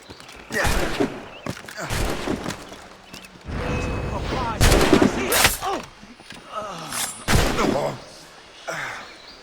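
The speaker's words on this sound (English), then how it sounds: "I have a shot, ready to fire." Gunfire in the Assassin's Creed Rogue video game, several sharp bursts of shots scattered through the scene, mixed with character voices and game sounds.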